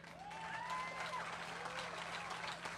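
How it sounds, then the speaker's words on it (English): Crowd applause at a Bassmaster Elite weigh-in on the St. Lawrence River, a steady wash of clapping throughout with a faint tonal whistle-like line and background hum. "look at this crowd here."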